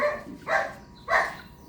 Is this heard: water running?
no